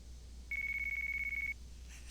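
A mobile phone ringtone in the game Yakuza 4 gives a steady, pulsing electronic trill for about a second, clear over low background hum, then stops.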